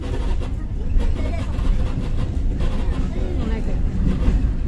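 Steady low rumble and rattle of the Siliwangi passenger train rolling along the Sukabumi–Cipatat line with brakes released, continuous and close, with faint clanks mixed in.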